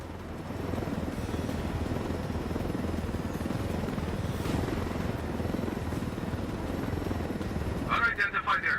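A helicopter in the video game Ghost Recon Wildlands flies with a steady, loud rotor drone that holds throughout, and a brief burst of other game sound comes near the end.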